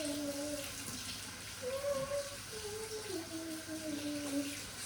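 Water runs steadily from a kitchen tap into a sink while hands are washed during baking, with a continuous splashing hiss across the whole stretch. A faint tonal whine sits underneath, and nobody speaks.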